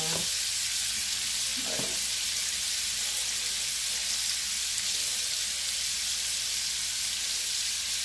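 Shrimp fry in a pan with a loud, continuous hiss and sizzle that fills the whole stretch, close up, with a quick spoken word near the start.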